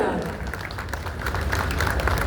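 An audience at a wellness resort event claps for the long-serving chief minister of Uttarakhand, moderate applause with a steady low hum of the room beneath and voices mixed in.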